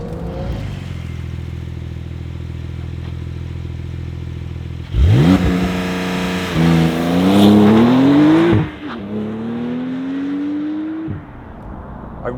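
A Porsche 992 GTS Lightweight with a manual gearbox idles steadily, then its flat-six flares and pulls away on the road, revs sweeping up through a gear change before settling into a steady cruising drone, loud and close.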